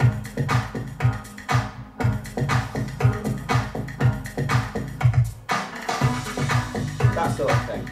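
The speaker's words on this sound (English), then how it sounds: "This crash cymbal." A full drum-and-band passage with a splashy crash cymbal ringing out over the beat, struck a couple of times at loud volume.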